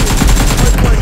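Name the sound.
gunfire in a video game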